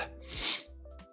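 A single sharp sneeze bursts out up close, with a short snorting breath just after.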